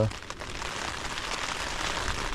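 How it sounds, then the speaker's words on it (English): Heavy rain drums steadily on a tent at a campsite in Keld, a continuous close hiss of drops that holds level throughout with no other sounds. "Come back into my tent, raining heavy."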